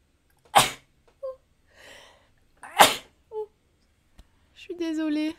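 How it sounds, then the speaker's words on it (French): Two sharp, loud sneezes about two seconds apart in a quiet indoor room, each with a short breathy lead-in, followed by a brief voiced sound at the end. "Je vais éternuer."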